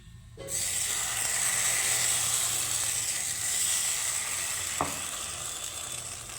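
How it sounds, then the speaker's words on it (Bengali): A ladle of dalia batter hits mustard oil in a frying pan and bursts into a sudden loud sizzle that settles into a steady hiss, with one brief clink partway through. "এখানে আমি সামান্য তেল দিয়েছি আর এখানে দিয়ে দিব আমি এক হাতা ব্যাটার"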